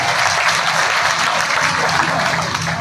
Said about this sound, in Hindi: ऐसे माननीय वीडी शर्मा जी को ताली बजा के अभिनंदन करता